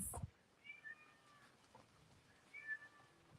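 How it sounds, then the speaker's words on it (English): A house cat meows softly in a few faint, drawn-out calls from some distance away, set against a quiet room. "oh, do you hear the cat? Where's that cat?"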